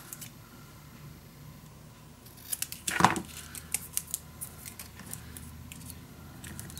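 Scissors cut paper for a scrapbook mini album: a few crisp snips cluster around the middle, close and fairly quiet over a soft room hiss, with no talking.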